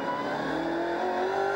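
A V8 race car at Ruapuna raceway holds high revs against the rev limiter in second gear, giving a steady, rising whine that stays loud and constant through the short burst.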